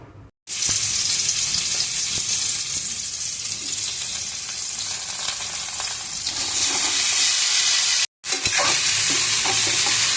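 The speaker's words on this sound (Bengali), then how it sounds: "এবার এই ইঁচড়টা ভাজবো" Boiled young jackfruit hitting hot oil and frying, a sudden loud sizzle that holds steady with brief stirring noises, interrupted by a short silent gap before resuming.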